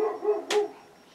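A dog gives a single sharp bark in a home over soft background sounds, followed by a short fading tail.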